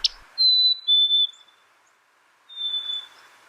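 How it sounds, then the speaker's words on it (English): Birds whistle at dawn in a quiet outdoor setting, a few clear high notes in short separate phrases with silent gaps between them, no voices. "a chorus of birds welcoming the new day"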